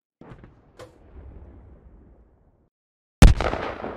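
A tank round slams into the ammunition compartment of a Challenger 2 tank in Squad, a sudden, very loud explosive crack followed by a rumbling decay, after a few faint distant thumps and near-silence.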